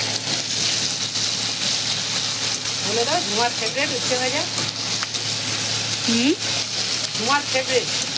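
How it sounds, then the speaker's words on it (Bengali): Bitter gourd fries in hot oil with a loud, crackling, popping sizzle close by, steady throughout, while voices talk faintly over it in the middle and toward the end. "উচ্ছে ভাজাটা খুলে একবার দেখা হোক কি হচ্ছে। আওয়াজ তো খুব করছে, চড়বড় চড়বড়।"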